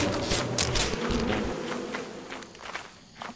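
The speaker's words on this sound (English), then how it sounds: "I'm guessing if I drop in the ship, the bees will go into the ship?" Bees buzz around a beehive in Lethal Company, a close, wavering insect drone that swells and fades over a few seconds with faint footsteps beneath.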